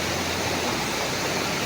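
Mashenuloddi waterfall roars as a steady, dense broadband rush of falling water, close and continuous with no voices.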